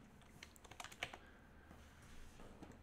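Quiet keystrokes on a computer keyboard tap out code in a quick irregular cluster, then thin out to a few faint clicks over a low room hum.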